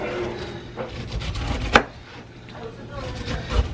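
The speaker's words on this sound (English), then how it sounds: "I'm going to go take my knife and just go all the way around the pineapple" A knife cuts around a whole pineapple in a home kitchen, giving a close series of soft sawing and chopping strokes with one sharp knock against the board partway through.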